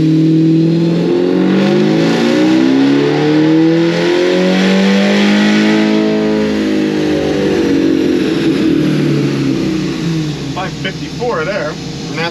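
An LT4-powered Chevrolet C10 pickup revs hard and loud, its engine note climbing steadily as the tires spin. The roar is continuous and close, tapering slightly near the end.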